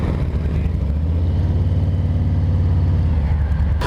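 Harley-Davidson motorcycle with stock exhaust pipes idling nearby, a steady, loud low rumble with a throbbing pulse and no change in pitch.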